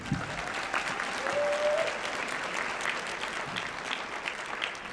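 Audience applause for classmates at a law school pinning ceremony, a steady wash of many hands clapping filling the room for the full stretch, with a faint voice briefly audible.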